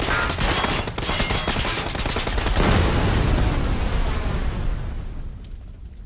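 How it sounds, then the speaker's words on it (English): A vehicle explosion during a PUBG match erupts into a sustained, loud, dense roar of bursts and crackling debris that rolls on for several seconds before easing off near the end. "I think we're going to explode"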